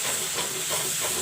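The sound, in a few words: masala frying in a pan with chili and turmeric powder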